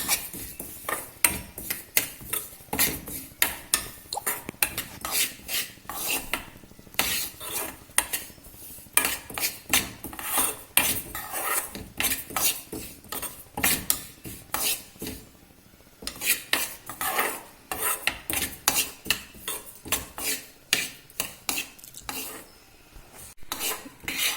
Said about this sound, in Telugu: ఇలా డ్రై రోస్ట్ చేసుకోవాలి. ఆయిల్ వేస్తే ఇవి చిట్ట పేలుతాయి ఉంటున్నాను, అందుకని ఆయిల్ లేకుండా రోస్ట్ చేసుకోవాలి